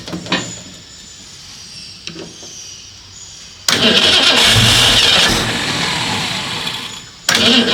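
A Fastang car's engine cranks a couple of times quietly, then fires up abruptly and runs at a loud, rough idle, dips briefly, and revs up again near the end.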